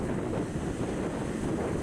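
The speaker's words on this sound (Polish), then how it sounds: "A za mną ocean." Steady broadband roar of wind buffeting the microphone, with the wash of Pacific Ocean surf blended underneath on a cloudy rainy-season day, continuous and fairly loud throughout.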